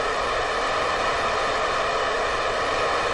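Steady, dense roar of rocket engines in the video game Kerbal Space Program filling the whole clip, loud and constant with no breaks or voices.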